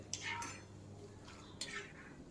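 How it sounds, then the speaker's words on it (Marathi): Thin potato slices roasting in a pan for chivda are stirred up and down, giving two soft scraping rustles about a second apart over a faint background hum. "असं वर खाली सारखं हलवायचं म्हणजे सगळीकडून चांगले भाजतात ते."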